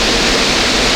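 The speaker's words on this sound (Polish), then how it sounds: "Wodospad Roztoki." The Roztoki waterfall gives a dense, steady roar of falling water, loud and close, with no voices or other sounds over it for the full second.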